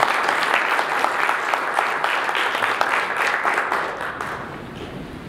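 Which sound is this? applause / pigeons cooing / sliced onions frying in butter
applause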